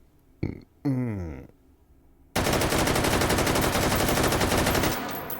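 An AK74N rifle fitted with a muzzle brake fires a sustained full-auto burst in the VR shooter H3VR, loud and close, roughly two and a half seconds of rapid shots after a few short mechanical clunks.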